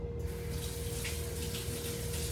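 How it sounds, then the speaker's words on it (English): Water runs steadily from a kitchen tap as a spoon is rinsed under it, a constant close rushing stream with no talk. "I'm going to rinse this spoon off"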